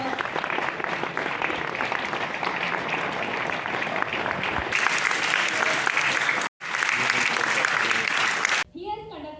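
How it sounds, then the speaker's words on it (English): Seminar audience applauding in a hall, dense sustained clapping that runs unbroken, drops out for a split second, then returns and ends abruptly. "Please give a big round of applause."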